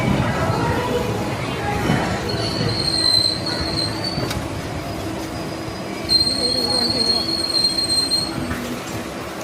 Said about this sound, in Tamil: நமது ரயில் சீர்காழி ரயில் நிலையத்தை விட்டு புறப்பட்டு விட்டது